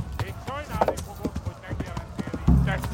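Horses' hooves clop and thud at a run in a rough, chaotic scene, with several people shouting and talking over the hoofbeats throughout.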